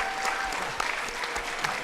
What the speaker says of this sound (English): let's again give them a round of applause.